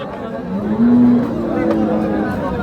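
At a cattle market, a cow gives one short, deep moo amid constant nearby chatter and crowd noise.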